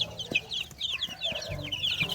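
Backyard farm chickens with young chicks cluck repeatedly in short, varied calls, a steady chatter of several birds close by with low rustling beneath.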